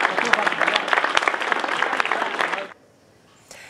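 General applause from an official gathering marking the launch of peace talks between two parties, dense and steady for under three seconds before stopping abruptly, followed by near silence.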